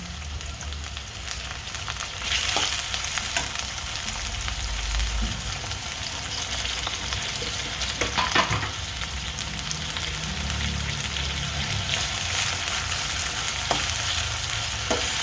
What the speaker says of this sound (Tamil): இஞ்சி பூண்டு பேஸ்ட்டு, அடுத்து தக்காளி. இதிலே நம்ம கத்திரிக்காயும் வதக்கிக்கலாம், அதனால் தக்காளி போட்டுறேன்.